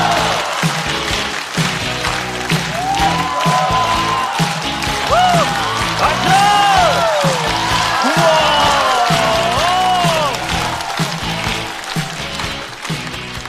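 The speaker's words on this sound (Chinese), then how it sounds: "让我们掌声欢迎阿秀" Studio audience applause with scattered cheers at a Chinese stand-up comedy show, greeting newcomer comedian A Xiu as she takes the stage; steady, full clapping that holds loud for several seconds with some voices mixed in.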